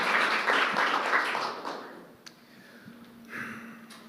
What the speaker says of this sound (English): Give Chris a big round of applause for being so brave to raise his hand